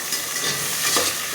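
Onions frying in oil in a pan for Hyderabadi biryani, a steady close sizzle with a dense crackling hiss throughout and no speech.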